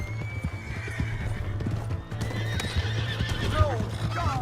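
A horse in the Western game Red Dead Redemption 2 whinnies while its hooves clip-clop at a gallop, loud and close, with game voices talking over it.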